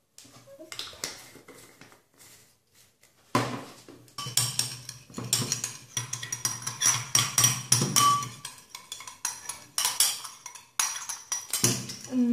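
A spoon mixes green powdered food colouring with a little water in a bowl, starting with sparse taps and then breaking into rapid, rhythmic clinking and scraping of metal on the bowl, close and fairly loud, with no talk.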